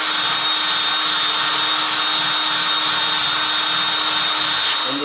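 A rotary power tool spins a wire brush to strip paint from a die-cast Dinky toy, giving a steady, close, high-pitched whir with a constant buzzing undertone for the whole stretch.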